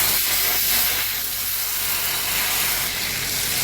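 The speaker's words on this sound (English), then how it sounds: "we're going to add 1 tablespoon of butter. And very carefully give this a stir." A tablespoon of butter goes into hot caramel over low heat and is stirred, setting off a loud, continuous steamy hiss and sputter that fills the whole stretch, with no talking.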